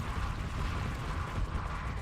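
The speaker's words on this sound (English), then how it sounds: "the wave pulse cannons are just destroying the AI fleet" Wave pulse cannons fire at a fleet in the space battle game Starsector, a dense, continuous low rumble of overlapping blasts and booms that stays steady and heavy throughout without pause.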